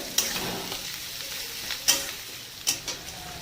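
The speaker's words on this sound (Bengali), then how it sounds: "এবারে ভাজা ভাজা হবে" Chopped onion and whole garlic fry in a pan with a soft continuous sizzle. A few sharp spatula clanks and scrapes strike the pan at irregular intervals, close by, with nobody speaking.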